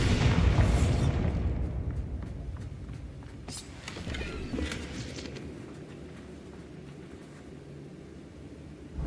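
Bombarda blasting spell from Hogwarts Legacy going off as a loud, close explosion burst at the start, then a lingering rumble and a second boom among steady game ambience.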